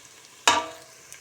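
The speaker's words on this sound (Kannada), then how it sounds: "ಹಸಿಮೆಣಸಿನ್ಕಾಯಿ ಎಲ್ಲ ಚೆನ್ನಾಗಿ ಒಂದು ಫ್ರೈ ಹಾಕೋಣ" Green chillies with coriander, turmeric and chilli powders hitting hot oil in a pan for chicken gravy, a sudden loud sizzle that fades quickly, heard alone without speech.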